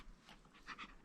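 A dog pants nearby in quick, soft, rhythmic breaths, quiet and brief, with no other prominent sounds.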